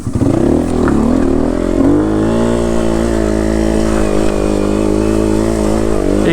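A Beta 125 RR two-stroke dirt bike runs at a steady, buzzing idle up close, rising briefly in pitch early on before settling into a loud, even drone.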